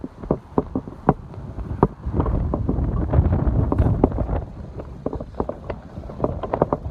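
Strong outdoor wind buffets the microphone in gusty low rumbles, mixed with a rhythmic series of sharp ticking or fluttering hums from a Thai snu wind-kite setup.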